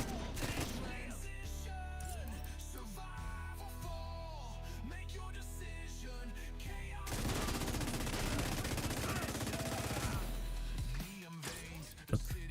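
Enemy light machine gun fire in The Division 2, dense gunfire bursts layered over game music and effects throughout, growing heavier and more sustained in the second half.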